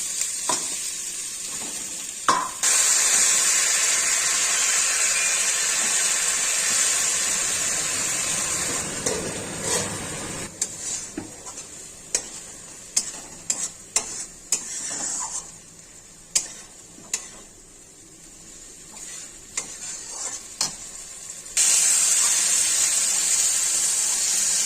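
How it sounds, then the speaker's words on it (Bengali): Potatoes with ground spices sizzling and frying in a pan, with a loud steady hiss at the start and end and a stretch of scraping stirs and clinks in between. "আলু মশলা খুব সুন্দর করে ভাজা হয়ে গেছে।"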